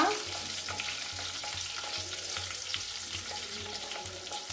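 Chopped green chillies and dried red chillies sizzle and crackle in a hot pan while being stirred, a steady close frying hiss with faint scraping, for a ridge gourd curry.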